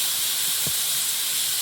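Taro curry sizzles steadily in a pan as green chilies go in, a continuous near hiss with a brief soft thump partway through and no talk.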